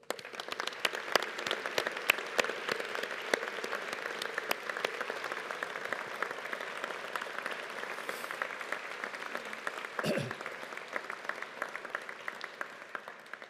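Graduates at a Strathclyde Business School graduation ceremony receive sustained applause from the hall, a dense, even crowd clapping with a brief thump partway through, continuing for the full length.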